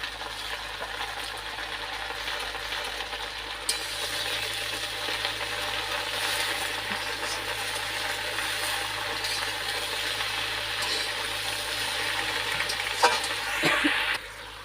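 Chicken masala with chili powder frying in a pan, a steady close sizzle with a few faint stirring clinks and scrapes toward the end, no talk.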